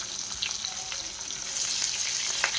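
Stuffed capsicum sizzling steadily in hot oil with cumin in a pan, a dense continuous crackling hiss with a few sharper pops, fairly quiet and close, no voices.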